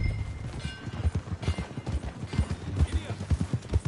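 Horse hooves clip-clop at a steady trotting rhythm in Red Dead Redemption 2, close and clear, with faint background ambience.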